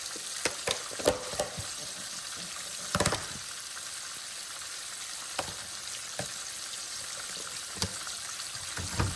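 Steady sizzling and crackling of raw pork chops frying in a pan, with occasional clinks and scrapes of a utensil; no talking.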